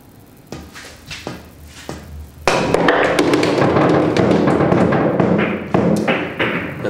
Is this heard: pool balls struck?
yes